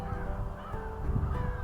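Crows in an urban woodland in early spring, with the snow melting and a great grey owl present, give short, faint, hoarse calls over a low background rumble.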